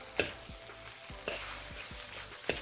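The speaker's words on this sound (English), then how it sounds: "now I'm going to add the 2 eggs. Okay, we want to stir that in there so everything mixes really well." Eggs being stirred into halibut fried rice in a hot pan, with a steady sizzle under repeated scraping strokes of the utensil, close and fairly loud, no voices.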